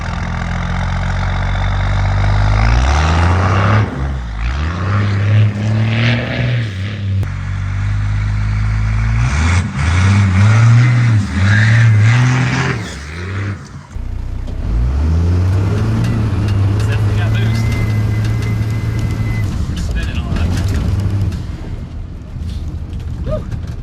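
A 1993 Dodge W350 with an intercooled 12-valve Cummins diesel revs and accelerates hard through several gear pulls, its loud deep engine note rising and falling repeatedly with brief dips between shifts, close and dominant throughout.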